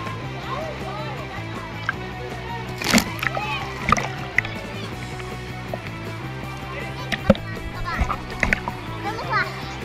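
Splashes of someone jumping into a hotel swimming pool, with a loud burst of water followed by smaller splashes and churning, under children's voices and nearby chatter.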